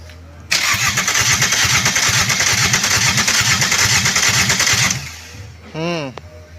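A rebuilt Toyota Corolla 3ZZ-FE engine cranking on its starter: loud, even rhythmic chugging for about four seconds that never catches and then cuts off, followed by a brief short whine.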